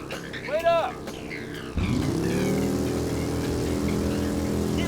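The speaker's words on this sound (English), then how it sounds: "Just love the sound of loud-ass motorcycles drowning out the voices of the characters." Loud motorcycle engines in the video game Ride to Hell: Retribution roar in abruptly and hold at a steady rumble, drowning out voices heard just before.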